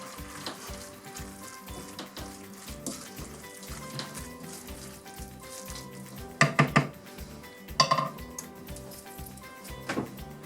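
Minced meat for lasagne fries in a pan, giving a soft steady sizzle while a utensil stirs and scrapes, with a few sharper clinks and knocks of the spoon against the pan.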